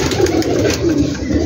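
Ferozpuri pigeons, a grey pair among many birds kept in caged rooftop lofts, coo softly and steadily in a low continuous murmur, with overlapping calls and no talk.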